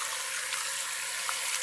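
Water runs steadily from a kitchen tap while salt is rinsed off saltfish for stew, a continuous close hiss and splash with no voices.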